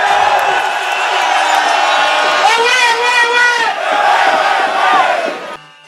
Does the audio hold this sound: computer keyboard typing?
no